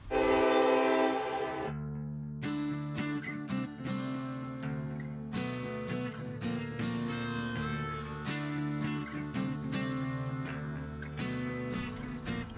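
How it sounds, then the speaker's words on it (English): Loud horn on a 3-inch scale Davenport diesel locomotive model, a brief rich blast at the start, then a run of repeated horn notes and clanking tones lasting over ten seconds, close and loud with no speech. "and I chose the loud horn"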